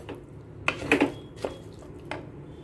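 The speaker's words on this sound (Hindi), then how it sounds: "मिक्स कर लेते हैं और चावल को थोड़ा सा भूनेंगे मसालों के साथ 25 से 30 सेकंड।" Soaked rice being stirred with spices in a cooking pan, a few scattered clinks and scrapes of a spoon against metal over a quiet background, close and without talk.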